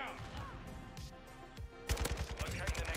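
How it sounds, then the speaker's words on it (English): In Call of Duty MW2, a rapid burst of automatic gunfire rings out, loud and close, after a quieter stretch with scattered game sounds and a voice talking. "I'm getting shot at by his buddy, though."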